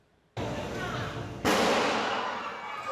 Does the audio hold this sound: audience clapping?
no